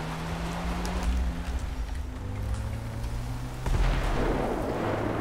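An explosion in a GTA V zombies mod: a sudden heavy blast bursts out midway over a steady engine drone and rumbling game ambience, fairly distant and without speech.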